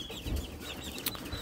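A hen in a wooden brooder gives a few soft clucks close by amid low background noise.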